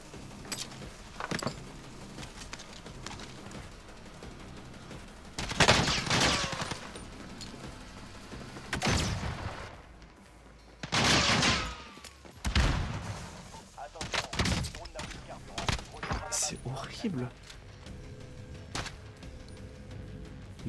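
Gunfire in Call of Duty: Warzone, a handful of sharp loud shots and bursts spaced irregularly across the span over a quieter game background with scattered clicks and clatter.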